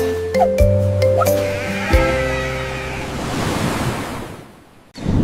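Sheep bleat in bursts over a steady wash of ocean surf, the calls loud and near at first, then fading as the waves and some wind noise take over before a brief drop near the end.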